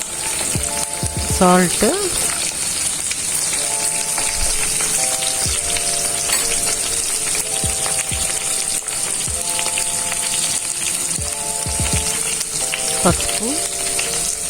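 Beans, brinjal and okra fry for sambar in a pan on the stove, giving a steady, close sizzle and hiss throughout, with background music and a voice talking over it.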